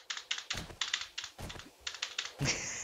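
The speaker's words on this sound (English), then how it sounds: "it's just the old mechanical keyboard" Rapid, clattering keystrokes on an old mechanical computer keyboard, loud and close, in uneven bursts with a heavier thock near the end.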